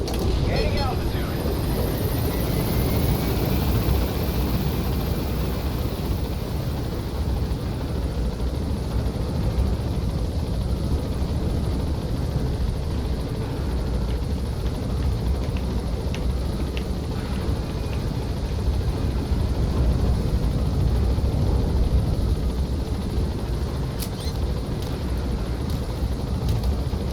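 An extraction helicopter in Metal Gear Solid V flies steadily with a loud, continuous rotor and engine drone throughout, and a voice speaks briefly over it.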